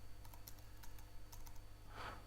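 Keys tapped on a computer keyboard while entering a MySQL install command in Ubuntu, a quick, quiet run of separate clicks with a brief, louder burst near the end, with no talking.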